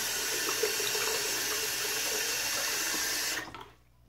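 Tap water runs steadily into a shaving bowl as a broadband hiss for about three and a half seconds, then shuts off abruptly, leaving near silence.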